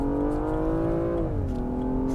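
A BMW M235i is accelerating hard, its engine note climbing steadily and then dropping briefly at a gear change before rising again. The sound is loud and close, a continuous drone with no talk over it.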